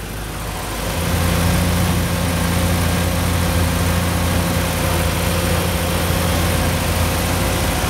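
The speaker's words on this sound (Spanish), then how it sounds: "el nivel de vida que tiene el motor, realmente otro de los motores que parece que estuviera parado" A classic car at a classic-car show idles with its choke partly on after a night parked outdoors, giving a steady, even low hum that stays close and constant with no voices.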